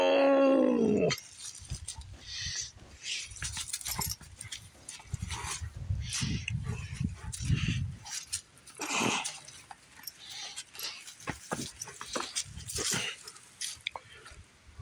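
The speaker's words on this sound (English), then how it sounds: "Are you being a good doggy?" A dog vocalizes during a game of catch, giving a loud opening yelp followed by a run of grumbling, growly whines and short barks that rise and fall close by.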